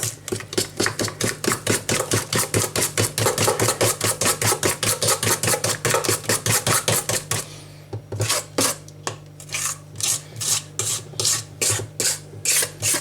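Banana bread batter being mixed by hand in a bowl, a loud, close, steady run of rapid rhythmic scraping strokes that shift to a slower, heavier beat partway through.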